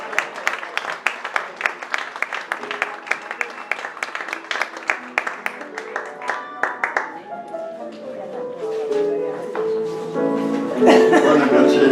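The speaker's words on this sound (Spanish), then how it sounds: "Un fuerte aplauso para los dos." An audience at a Christmas poetry recital applauds, sharp individual claps ringing out in a quick steady rhythm before blending into a denser patter as it fades, with a voice and some laughter near the end.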